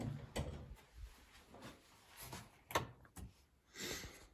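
A closet door opened in a home studio, heard as faint scattered wooden knocks, clicks and a soft sliding rumble among items being shifted, quiet and irregular with no talking.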